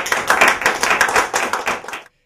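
A meeting audience applauds a speaker's introduction, a brief burst of many hands clapping close by that cuts off abruptly after about two seconds.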